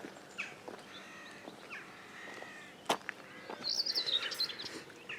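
Birds, crows among them, call intermittently in the background by a river near Bodiam, with a burst of chirping toward the end and a sharp knock midway; caws are not clearly distinct.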